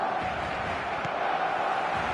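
A football stadium crowd roars after a Barcelona goal, a dense, steady wash of distant cheering that holds level throughout.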